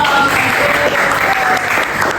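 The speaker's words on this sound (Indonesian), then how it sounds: "Oke, tepuk tangan kita semua dong." A classroom full of students breaks into loud, sustained applause, a dense steady wash of clapping close by with faint voices underneath.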